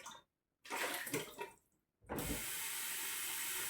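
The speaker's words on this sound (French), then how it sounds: "Je vais mettre un peu d'eau." Water poured into a pressure cooker while preparing vegetable puree for a baby, heard as steady splashing in two bursts with a short gap, then a continuous pour.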